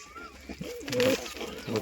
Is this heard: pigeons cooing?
yes